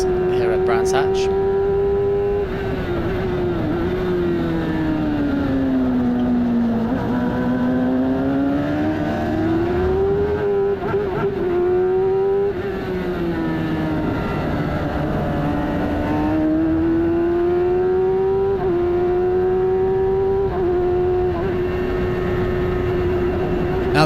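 An F1000 race car engine heard onboard at Brands Hatch, a loud, continuous high-pitched whine rising and falling through gear changes and throttle along the main straight, with no other sounds.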